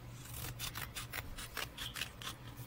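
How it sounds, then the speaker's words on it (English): Scissors snip slits into creased paper for a paper lantern craft, a quick series of about ten short crisp cuts, close but quiet. "we're going to get our scissors and we're going to make slits"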